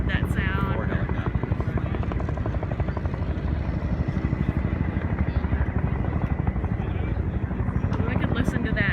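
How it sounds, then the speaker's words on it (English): A group of four helicopters at the Dayton air show thunders by, the rapid rotor thumping staying loud and continuous across the whole stretch, with speech mixed into the din. "Oh, I love that sound. Four helicopters."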